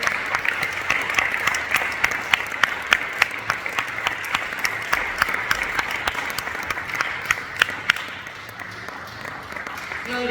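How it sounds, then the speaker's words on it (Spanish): A church congregation applauding at a Sunday service, sustained loud clapping from a crowd with occasional sharper claps, thinning slightly toward the end, voices faintly underneath. "¿Puede darle un aplauso al Señor también?"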